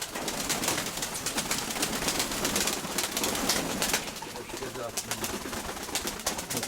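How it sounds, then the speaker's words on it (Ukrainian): Many pigeons coo and flutter nearby in a steady, busy chorus, with a person's voice faintly mixed in. "Оце оце дядя Вані Барабаша Голуб"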